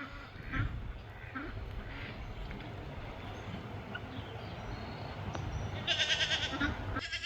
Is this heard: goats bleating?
yes